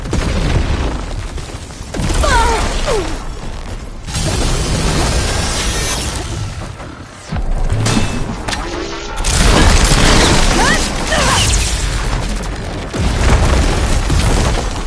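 Supporting fire explosions in the video game Horizon Forbidden West, with loud, heavy booms and crashing blasts in repeated waves, dense and close throughout.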